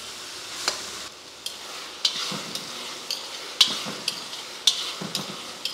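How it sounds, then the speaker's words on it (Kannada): A spoon stirring cooked pongal into a pan of cashew and asafoetida tempering, with regular scraping clinks against the pan about once a second over a soft sizzle. "ಇದು ಒಗ್ಗರಣೆ ಎಲ್ಲ ಚೆನ್ನಾಗಿ ಮಿಕ್ಸ್ ಮಾಡಿಬಿಟ್ಟು"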